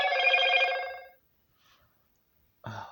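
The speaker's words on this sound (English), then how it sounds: "Sorry, that was my phone." A phone rings with one loud electronic trill, then falls silent; a brief voice comes in at the end.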